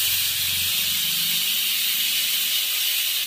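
Curry leaves, black pepper, mace, sesame seeds, cumin and chillies dry-roast in a pan, giving a steady, even hiss that runs unbroken through the whole stretch at moderate loudness.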